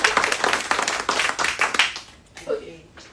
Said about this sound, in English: can we just jam our hands together and clap for Nikki May?